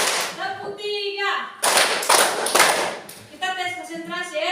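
During a classroom clapping game, children chant together, then clap in three loud bursts of increasing count before chanting again.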